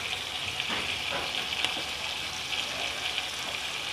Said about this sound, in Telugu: ఇప్పుడు మనం దీన్ని ఇలా రెండు వైపులా ఫ్రై చేసుకోవాలన్నమాట